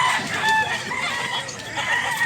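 Roosters crow over one another at a market in Mantalungon, Cebu, amid clucking chickens and a busy background din, loud and continuous across the moment.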